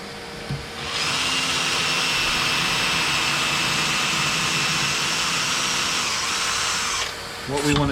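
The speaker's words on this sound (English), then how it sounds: "Let me get my vacuum." A shop vacuum starts up nearby during woodworking on a custom box, running loud and steady with a high whine for about six seconds before winding down, followed by a brief clatter.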